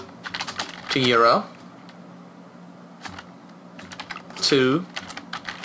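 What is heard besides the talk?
typing on a computer keyboard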